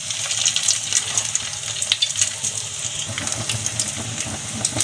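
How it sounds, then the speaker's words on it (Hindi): Chicken burger patty frying in lightly heated oil, a steady soft sizzle and crackle running throughout with faint scattered pops and kitchen clatter. "इस स्टेप में हम अपनी पैटी को फ्राई कर लेंगे।"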